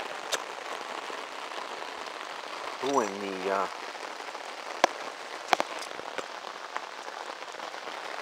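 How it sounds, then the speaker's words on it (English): Steady rain patters on a hard surface, with scattered sharper drips, while a voice briefly speaks over it partway through. "And it's raining."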